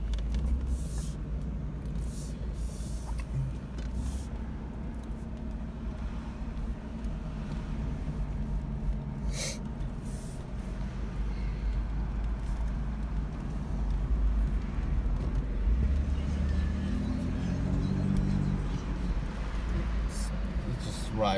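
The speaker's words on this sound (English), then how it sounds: "a short drive around the parking lot of the church" A 1989 Oldsmobile Cutlass Ciera SL wagon rolling slowly around a church parking lot, its low steady engine rumble and road noise droning inside the cabin, swelling slightly toward the end.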